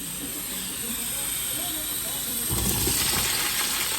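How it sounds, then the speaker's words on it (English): Bacon chunks for feijoada hit a hot pot and let out a hissing sizzle. It swells louder and more crackly partway through and sits close and steady under a faint background hum. "Time for the bacon to go in."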